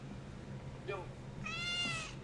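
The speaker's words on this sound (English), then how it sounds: "she is one of the most talkative cats I've ever met in my life" A talkative house cat in an apartment gives two meows, a short one followed by a longer, louder one, close by and clear over faint room noise.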